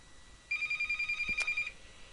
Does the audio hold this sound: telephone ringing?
yes